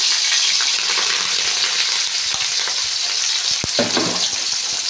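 Onions and curry leaves fry in a pan for a potato fry, giving a loud, continuous sizzle with a few stirring scrapes near the end.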